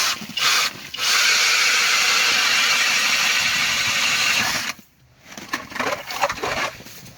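Kobalt 24V Max cordless power auger boring through lake ice, a loud sustained motor whir with grinding, dropping out briefly near the end before a rougher burst as the bit finishes.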